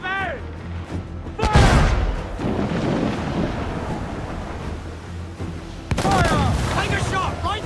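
Ship cannons firing during a naval battle in an Assassin's Creed game set in 1721. Deep booming blasts roll out over a rumbling sea backdrop, with two big volleys standing out and voices shouting between them.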